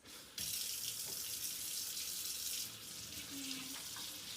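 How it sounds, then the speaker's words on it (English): Tap water runs steadily into a kitchen sink during handwashing, a continuous hiss that starts abruptly and stays loud throughout, with a brief dip in flow near the end. "Now I'm going to wash my hands."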